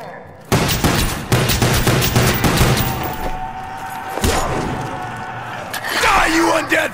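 Sustained bursts of gunfire from a weapon in Call of Duty: Black Ops, loud and dense, running almost continuously with booming impacts and game noise layered over it.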